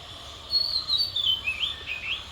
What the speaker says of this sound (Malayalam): പക്ഷി ചിലയ്ക്കുന്ന കേട്ടോ ഇവിടെ തന്നെ